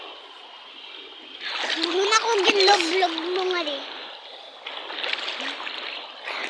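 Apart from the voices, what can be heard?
river flowing near the speaker's house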